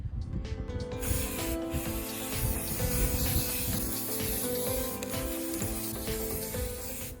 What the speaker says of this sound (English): apply spray paint to the tire section